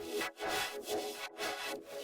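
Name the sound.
trance gate effect on synth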